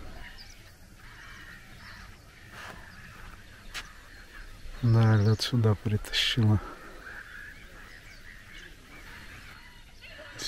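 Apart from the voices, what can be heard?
moorhens calling on a marsh pond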